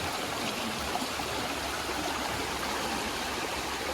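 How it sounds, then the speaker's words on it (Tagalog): Rushing water roars steadily, a dense, constant wash like heavy rain and flowing runoff, close and loud without pause. "Kusog ang ulan sa palibot."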